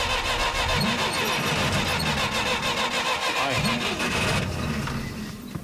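A vehicle engine in rural Mongolia cranks and sputters in repeated rough bursts, loud and close, trying to start without catching, then falls quieter near the end.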